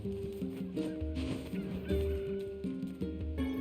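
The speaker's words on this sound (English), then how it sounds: "Chickens, give me your eggs." Video game chickens give short, honking clucks in a quick, irregular series, close and fairly quiet, with light game music behind them.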